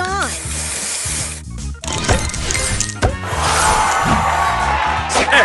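A Match Masters spray booster going off in the puzzle game, sizzling, shattering bursts and glassy clinks layered over continuous upbeat game music, with a rising tonal sweep at the start and repeated bright hits.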